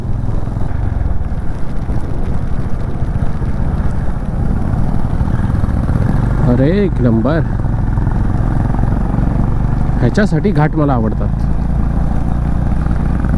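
A motorcycle engine drones steadily and loudly throughout the ride on a winding mountain ghat road in the monsoon, while someone speaks briefly over it twice.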